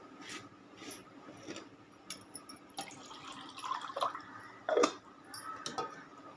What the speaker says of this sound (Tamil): அந்த ஜாரை கழுவி தண்ணி ஊற்றிக்கலாம்